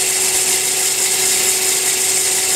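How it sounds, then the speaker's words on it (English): An air-driven detailing tool run as a sander on a burr gives a loud, steady whine with a constant high hum, close and continuous, no voices. "I turned on the machine, and it makes a really great"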